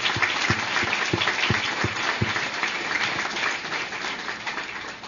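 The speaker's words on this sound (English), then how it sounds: "So let's give everybody a huge round of applause." A crowd at a grand opening ceremony claps steadily, a dense, sustained wash of applause that slowly tapers off near the end.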